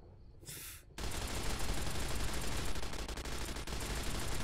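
Gunfire in Fallout: New Vegas opens with a short burst and then gives way to a steady, dense rattle of automatic shots that runs loud and continuous to the end.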